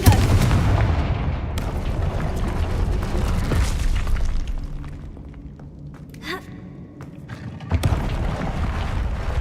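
Confringo fire spell explosions in Hogwarts Legacy give heavy rumbling booms, with one opening blast, another around 1.5 seconds and a further burst near 7.7 seconds, separated by softer ambient game noise and a brief voice.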